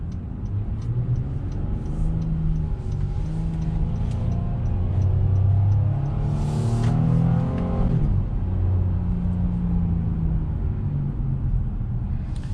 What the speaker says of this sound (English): that V6 has this raspy sound that Honda been doing for a really long time, or been known for a really long time